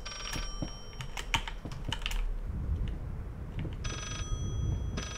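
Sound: telephone ringing in the video game Layers of Fear

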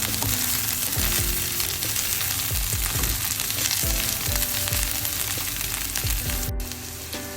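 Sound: curry chillies sautéing with carrot and onion in a pan

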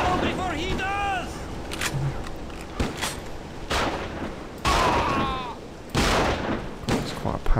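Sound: powerful gunshot from a gun in a video game

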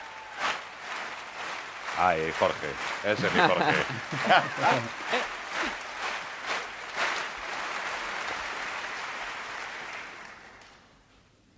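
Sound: audience applause

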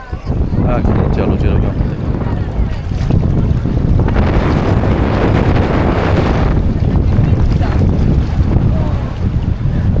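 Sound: hot wind blowing

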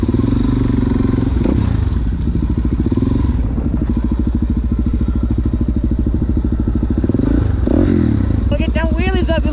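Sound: motorcycle doing wheelies

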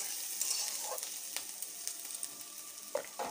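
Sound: stirring onions frying in a pan

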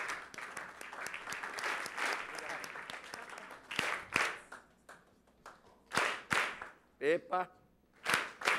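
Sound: round of applause

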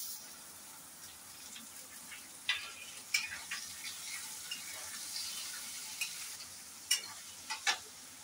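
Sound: onion added to hot oil, frying

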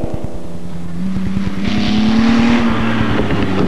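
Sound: V8 Cobra sports cars racing

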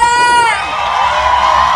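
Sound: audience applause and cheering for the producer

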